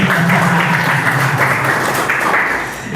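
Loud, dense applause fills a church Easter service after a Sunday school children's performance, with steady clapping from a large congregation throughout.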